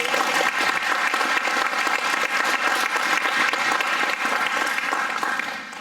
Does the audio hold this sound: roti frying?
no